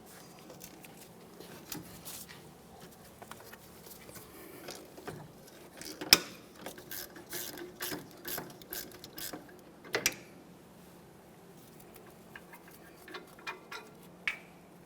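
Ratchet wrench loosening 14mm headed bolts on a 2010-2013 Kia Forte Koup rear wheel hub, a quiet run of rapid clicking and ticking bursts in short spells with brief pauses and a few sharper metallic knocks, no talking.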